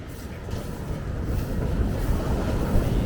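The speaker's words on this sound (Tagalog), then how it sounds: "Grabe sa alon. Sobrang lakas." Strong waves break at a beach resort in Zambales, Philippines, at high tide under a thunderstorm warning. The surf roars loud and continuous, thick with wind buffeting the microphone, and swells slightly toward the end.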